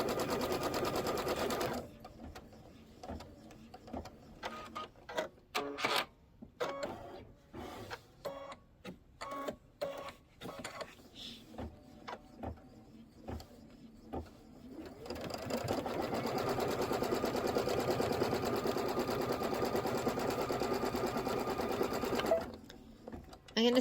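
Sewing machine quilting a pillow through fabric and batting, running in bursts of rapid stitching with short pauses, then a long steady full-speed run, loud and close with no talk.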